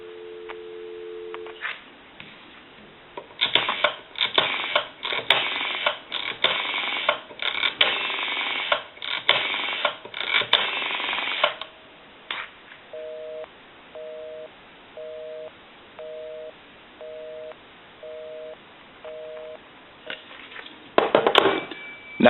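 A Kellogg Red Bar rotary telephone line, loud and close: a steady two-tone hum, a stretch of clicking and rattling, then a busy signal beeping in eight evenly spaced pulses, ending in a brief burst of noise.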